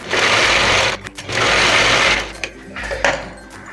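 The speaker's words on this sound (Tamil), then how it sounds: "இந்த விளிம்புலையும் ஒரு தையல் போடணும்." Domestic sewing machine stitching along the edge of a homemade Chinese-collar kurti, running in three steady bursts separated by brief pauses, loud and close with no talk.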